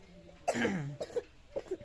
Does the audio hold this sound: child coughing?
yes